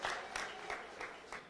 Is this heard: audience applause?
yes